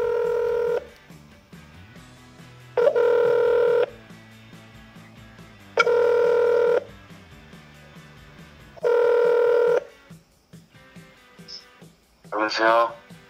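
A telephone call being placed live during a prize event: four loud, evenly spaced ringback tones, each about a second long, repeat with pauses between them, followed by a brief burst of a voice answering on the line.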